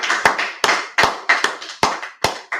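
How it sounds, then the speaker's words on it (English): Sharp hand claps ring out alone in an uneven rhythm, about a dozen distinct slaps over a few seconds, close and fairly loud, each with a short bright decay. "I'm going to clap it up."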